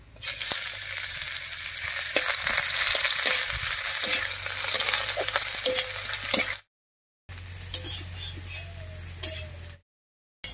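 Chopped onion sizzles steadily in hot oil already tempered with whole garam masala, cumin and chillies for a cabbage curry, with occasional stirring clinks. The frying is loud and continuous, broken by brief silent cuts.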